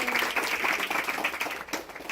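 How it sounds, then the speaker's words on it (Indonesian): Brief, fairly quiet clapping from a gathered group celebrating a birthday at a charity event with children, a steady patter lasting about two seconds. "Tepuk tangan dulu buat kakak Trisha."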